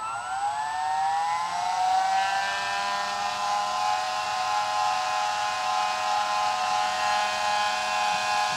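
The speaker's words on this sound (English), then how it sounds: "it's best if you put it on the stand for the noise of the motor" Castle 2028 1700Kv brushless motor spinning up on a bench test stand, a loud whine with rising tones that level into a steady sustained howl.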